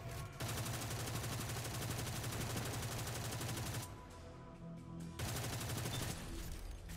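Enemies shooting gunfire in a video game, a rapid continuous rattle of automatic fire that drops out for about a second before resuming, close and steady with no talk.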